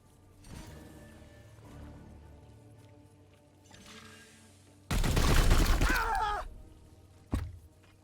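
Gunfire in the video game Chaos Gate Daemonhunters: after quiet game sounds, a loud burst of rapid automatic fire lasts about two seconds, then a single sharp impact follows.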